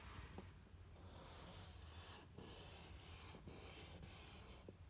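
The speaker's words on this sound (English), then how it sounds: "Now I'll use my pencil to make M on my paper." A pencil traces a cursive letter M on paper, giving soft continuous scratching strokes in several short bursts with brief pauses, close and quiet.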